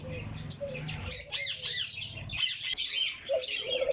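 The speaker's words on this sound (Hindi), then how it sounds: "ये कबूतर हैं, पकड़ के कबूतर हैं, नॉर्मल कबूतर हैं।" Several pigeons cooing and chattering nearby, with rustling and fluttering sounds mixed in; no talking.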